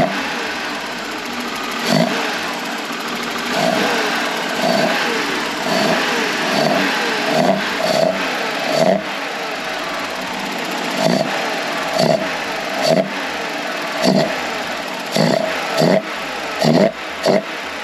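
A BMW E36 325i fitted with an M3 intake idles with a steady hum, then is blipped repeatedly with short sharp revs, over a dozen quick throttle bursts close by and loud.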